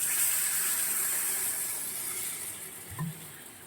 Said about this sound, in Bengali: এবারে সামান্য একটু জল দেবো।